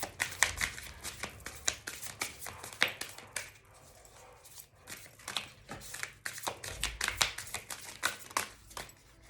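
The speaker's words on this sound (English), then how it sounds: "These cards just need to be loosened up a little bit. Hang on, you guys. I just need to shuffle them a little." A tarot card deck being shuffled by hand, with repeated crisp riffling and tapping bursts in uneven runs, close and fairly quiet, with no talk.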